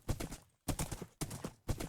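Horse hooves clip-clop in Minecraft, the video game, with four quick bursts of steps in an even rhythm, each fading before the next, heard close and alone.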